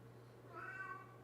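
A house cat meows once, a short rising and falling call at close range over a low steady hum, with no talk.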